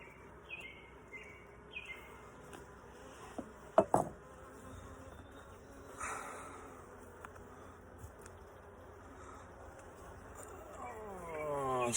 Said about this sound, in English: So I might have some bees flying around me, no big deal.